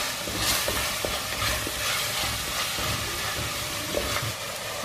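Onions and green chillies sautéing in oil in a pan for a pearl spot fish mappas, a continuous loud sizzle with scraping stirs and small knocks throughout, no voices.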